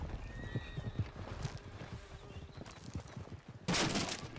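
Horse hooves clopping irregularly with a whinny, followed by a sudden burst of loud gunfire near the end, in the video game Red Dead Redemption 2.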